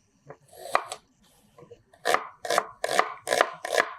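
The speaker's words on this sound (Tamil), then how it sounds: "அந்த கிரேவிக்கு தேவையான வெங்காயத்தை கட் பண்ணிக்கலாம்" A knife chops onions on a board for a chicken gravy, a few scattered cuts followed by five or six evenly spaced, crisp strokes, close and clear with no talk.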